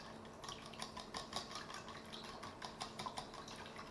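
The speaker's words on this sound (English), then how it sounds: "I'm going to use my whisk and whisk it together and hope it mixes" Muffin batter being whisked by hand in a bowl, quiet rhythmic scraping and clinking strokes at a steady pace, soft and close.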